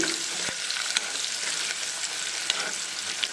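Chopped onions fry in a pan for a telagapindi curry, a continuous bright sizzle with scattered crackles and sharp spatula taps near the mic, no talking.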